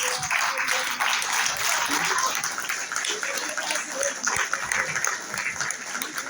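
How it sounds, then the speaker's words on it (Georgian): An audience at an award ceremony rises in a standing ovation for the women, with dense, sustained clapping filling the room and murmured crowd voices mixed in throughout. "მამაკაცებო, გთხოვთ ფეხზე ადგომით ტაში დაუკრათ ჩვენს ქალებს"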